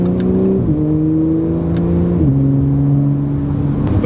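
An Audi RS5 V8 accelerating hard, a loud, close engine note climbing steadily in pitch, briefly dropping at two gear changes before climbing again.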